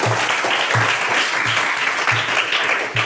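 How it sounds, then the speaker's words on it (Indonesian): Steady applause from a group, continuous and fairly loud, with a rhythmic low thump recurring under the clapping. "Kita tepuk tangan untuk dia dulu"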